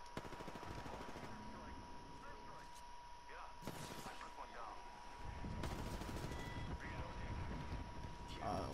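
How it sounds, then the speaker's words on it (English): Rapid bursts of gunfire in Apex Legends, repeated shots and fusillades crackling loudly through the stretch, with a player talking over them. "I'm getting shot. Getting shot in the back."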